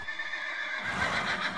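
A Minecraft horse gives a short, close whinny, followed by a brief rush of louder, scrappier game noise that sounds like shuffling hooves.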